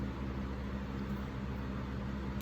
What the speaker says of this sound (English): Sorry for any noise you hear in the background. That is my fan.